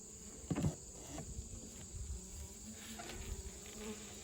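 Faint, steady buzzing of honeybees around an opened hive at a farm, with soft bumps and handling noises near the start and a constant high hiss of insects in the background.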